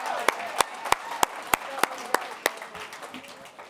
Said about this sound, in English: Let's give another round of applause for Jeffersontown.